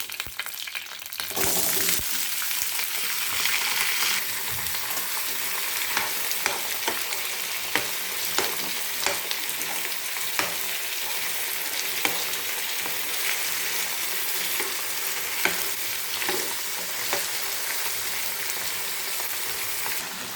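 Potatoes fry in hot oil with tempering spices and curry leaves for an aloo fry, a steady loud sizzle running throughout, broken by frequent sharp scrapes and clinks of a spoon stirring the pan.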